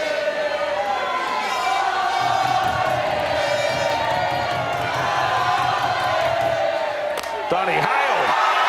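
A stadium crowd at an international softball playoff between Australia and New Zealand cheers loudly and continuously, a dense roar of many voices with a sharp clap or slam near the end.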